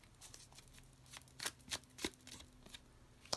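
Kawaii-themed tarot cards shuffled and pulled by hand, giving a string of crisp, close papery slaps and riffles in uneven bursts over a quiet room.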